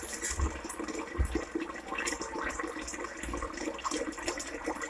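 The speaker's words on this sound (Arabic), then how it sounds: "انا باخد الحلة من على البوتاجاز تحت الحنفية بالشكل ده" Water runs from a kitchen tap into a pot in a quiet, continuous splashing stream with a few low thumps.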